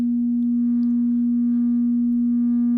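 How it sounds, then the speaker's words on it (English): A steady, pure sustained tone hums without a break, even and unwavering like electronic feedback ringing on, from a synthesizer's reverb. "barely turning the reverb on, we get this long sustained feedback"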